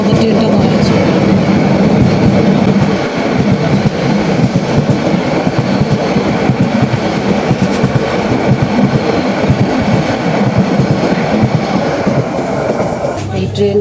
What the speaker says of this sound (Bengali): এই ট্রেনটার কারণে আমাদের ট্রেনটা অনেকক্ষণ দাঁড়ায় ছিল।